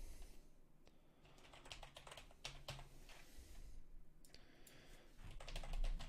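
Quick, irregular clicks of a computer keyboard being typed on, close but quiet, with brief pauses between bursts of keystrokes.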